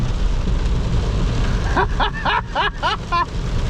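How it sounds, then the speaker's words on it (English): Heavy monsoon rain pours down on an open-top tram, a dense, steady roar of rain and traffic-like rumble filling the clip, with indistinct voices cutting in over the downpour in the second half. "open top tram in monsoon rain"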